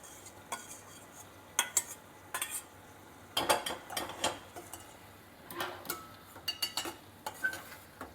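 Spiced spinach curry with fried potatoes being stirred in a pan, a spoon scraping and knocking against the metal in irregular bursts over a low background, with no talking.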